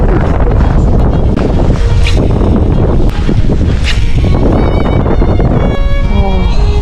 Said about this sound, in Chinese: 今天这大风，冰凉刺骨。